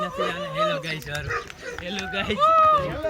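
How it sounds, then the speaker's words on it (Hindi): Barking from a dog in an Indian village during Holi festivities, mixed in with a lively crowd and someone talking over it, the barks short and fairly near. "ये कुत्ता देखो आप, कुत्ता देखो, कुत्ता"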